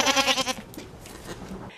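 A baby La Mancha goat on a farm bleats in a quick wavering cry, close and loud, then falls quiet.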